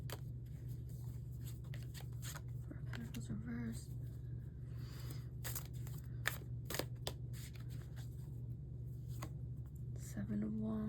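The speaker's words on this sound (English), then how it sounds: "you guys can't see me shuffle through these cards" Rapid papery riffles and snaps of a tarot card deck being shuffled, repeated in quick bursts over a steady low hum.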